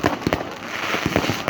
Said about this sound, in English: Phenomenal fireworks.